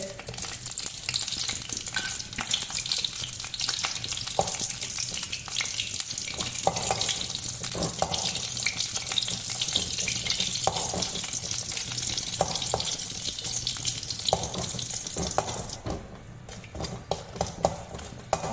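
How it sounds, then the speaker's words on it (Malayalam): Kondattam chillies, five sun-dried stuffed chillies, fry in a pan with a steady crackling sizzle and occasional stirring scrapes, close and fairly loud throughout, with a brief quieter dip near the end. "1 2 3 4 5 കൊണ്ടാട്ട മുളക് ഇത് വറുക്കുന്നുണ്ട്."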